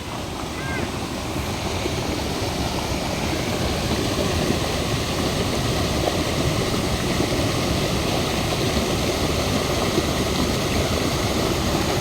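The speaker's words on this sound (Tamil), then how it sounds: "தண்ணியோட சவுண்டே உங்களுக்கு கேட்கும் எப்படி இருக்குன்ட்டு." Loud, steady roar of rushing water filling the whole scene at a waterfall in Kerala, broad and constant and close by, with no break in the flow.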